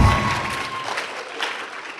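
An audience at a live atheist convention show breaks into applause, starting strong with a brief cheer-like tone at the outset, then thinning and fading over about two seconds.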